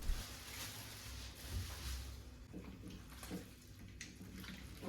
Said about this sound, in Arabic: غادي نحطوا واحد البرمه نديروا فيها الماء